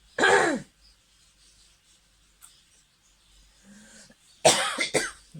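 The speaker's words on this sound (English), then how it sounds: "I do apologise about my coughing, ladies and gentlemen." Two harsh coughs close to the mic, one at the start and another near the end, with near silence between them.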